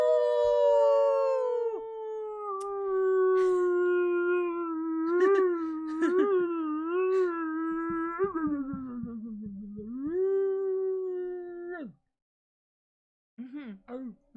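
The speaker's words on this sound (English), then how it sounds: "And then the howling begins." Long, wavering howls rise and fall for about twelve seconds, close and loud, fitting wolves howling in a story about werewolf-like creatures, then stop abruptly before a brief softer whine.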